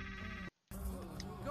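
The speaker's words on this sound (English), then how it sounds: "You should answer the phone." A telephone rings in the video game Trover Saves the Universe, a steady electronic ring interrupted by a short silent gap before resuming, loud and close.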